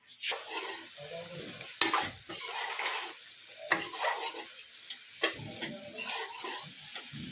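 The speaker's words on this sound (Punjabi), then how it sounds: "ਤੜਕਾ ਬਿਲਕੁਲ ਭੁੰਨ ਚੁੱਕਿਆ" Tadka for saag sizzles and fries in a pan, stirred with repeated scraping strokes of a spoon against the metal, loud and close with no talking.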